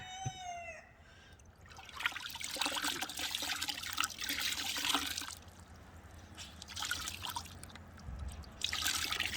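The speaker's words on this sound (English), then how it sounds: "So I just hand wring them out, and then we're ready to go" Water trickles and drips steadily from wet clothes being wrung out by hand after a plunger wash, close and fairly quiet, with uneven bursts of splashing.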